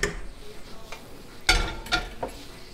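A whisk works roux and chopped vegetables into gumbo stock in a pot, making a few scraping, clattering strokes over a steady low background hum.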